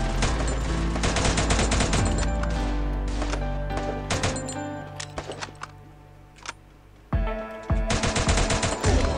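Rapid automatic gunfire in the Free Fire battle royale game, dense bursts of sharp shots rattling loudly in long strings, breaking into scattered single shots midway before another heavy burst resumes; no speech over it.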